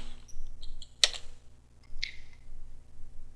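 A few scattered keystrokes on a computer keyboard while a command is entered, sparse clicks with a sharper tap near the middle, quiet and close with a faint steady hum underneath.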